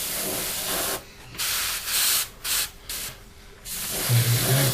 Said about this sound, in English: So with ever, when I'm spraying, I'll start on the bottom.